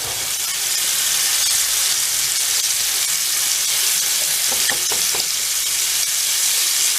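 Beef sears in a hot pan with a steady, close sizzle that holds throughout, broken by a few brief utensil clicks near the middle.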